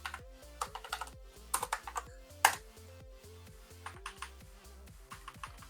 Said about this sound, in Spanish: Y teclado haciendo de las suyas también.